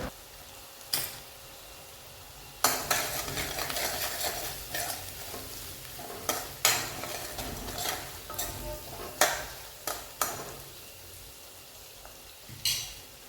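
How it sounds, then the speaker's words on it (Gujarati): A spoon scrapes and clatters around a pan in irregular strokes, mixing coriander-cumin powder and jaggery into spiny gourd and cashew curry, while it sizzles quietly underneath. "સારી રીતે ચમચાના મદદથી મિક્સ કરી દેશું"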